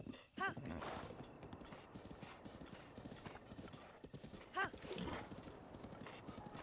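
A horse gallops across open ground in Zelda: Breath of the Wild, Master Mode, with a rapid steady clip-clop of hooves, two short whinnies rising above it, and someone talking faintly underneath.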